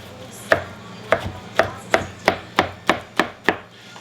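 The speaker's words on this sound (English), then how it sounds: "we're just going to give this eggplant just a rough chop. Cut it one way, turn it." A knife roughly chops roasted eggplant on a cutting board in about nine crisp, evenly spaced thuds, close and clear, with no talking.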